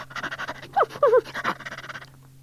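A dog on a Fireman Sam story cassette pants rhythmically, then gives a few short yelping barks in the middle, close and fairly loud, fading at the end over a faint steady tape hum.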